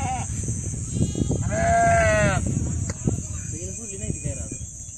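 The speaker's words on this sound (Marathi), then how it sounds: "बघा कशी जवळ आली आहे मेंढी माऊली" A sheep from a pilgrimage flock standing near gives one long, loud, wavering bleat, with quieter animal sounds and outdoor noise around it and a steady high-pitched hiss in the background.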